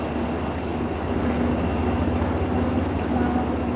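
A Hudson Bergen Light Rail train throttles up with a steady, loud, close rumble and a constant low hum, holding at an even level throughout.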